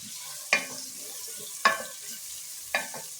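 Onions sautéing in a pot for mutton haleem, a soft steady frying hiss broken by three sharp scraping stirs at roughly one-second intervals.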